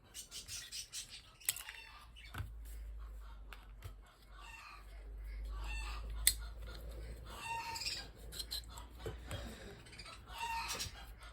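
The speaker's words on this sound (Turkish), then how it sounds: "Bu arada bizim horoz tavuklar galiba yumurtlamış." Chickens cluck and a rooster calls intermittently in a farmyard, with scattered bird chirps and some low rumbling in the background.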